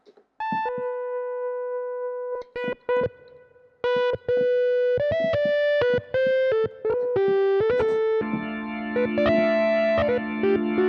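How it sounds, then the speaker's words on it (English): Yamaha YC electronic organ playing sustained chords and short stabs with a gritty, distorted edge, bright and close, pausing briefly between phrases before a fuller, denser final chord. "Let's maybe add a tiny bit of distortion to the sound."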